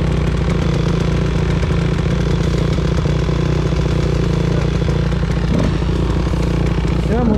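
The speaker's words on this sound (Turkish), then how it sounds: "Motor gitmiyor, gömüldü." Enduro motorcycle engine revving hard and constantly while the bike sits buried in deep mud, loud and close, with a rough mid-range drone and people talking over it.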